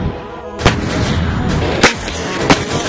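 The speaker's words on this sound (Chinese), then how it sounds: "坦克履带式装甲战斗车辆，通常配备重型弹药，后坐力自行感受。" A tracked armored tank fires heavy ammunition, giving three loud, sharp blasts about a second apart over a continuous rumbling background, each report ringing out briefly before fading.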